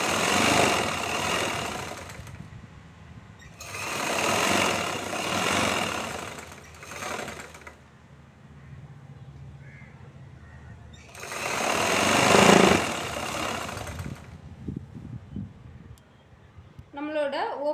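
An electric sewing machine runs in several loud bursts of rapid stitching through two layers of chudithar fabric, pausing between runs while someone talks over and between them.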